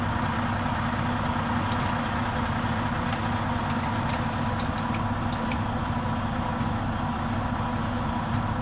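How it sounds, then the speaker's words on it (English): A truck engine runs steadily in first gear while creeping forward at about 5 miles per hour during a pre-trip inspection, giving a constant low mechanical drone with faint intermittent clicks and no voices. "I will put the truck in first gear, pull forward at 5 miles per hour"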